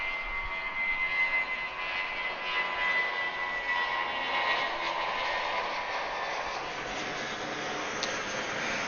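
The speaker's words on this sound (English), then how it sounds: "So here goes that Spirit A319" A Spirit Airlines Airbus A319 jet at Atlanta airport gives a steady, continuous engine roar at moderate distance, holding level throughout with no talk over it.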